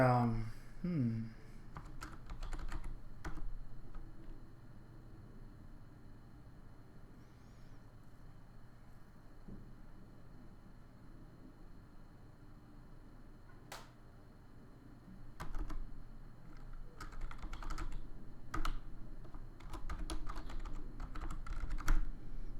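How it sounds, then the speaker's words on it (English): Keys clatter in short, uneven bursts on a computer keyboard as a password goes in, close and fairly quiet, with a speaking voice in the background. "I have to put in the right password"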